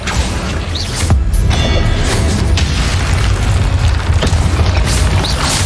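Continuous booming spell blasts and crashing explosions from the Hogwarts Legacy video game pound loudly and densely with no pause, close and overwhelming.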